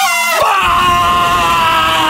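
A person lets out one loud, sustained, high-pitched scream that holds steady for about two seconds, close up and very loud.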